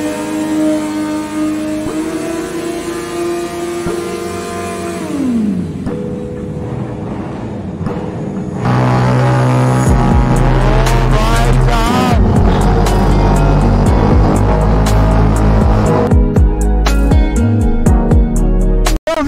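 Superbikes doing a burnout, engines revving hard with rising and falling pitch sweeps, loud and close, building into a sustained roaring, crackling rev with sharp bursts toward the end.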